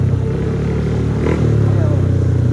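A motorcycle engine idles with a steady low throb and revs briefly partway through, close and loud, with a voice talking over it.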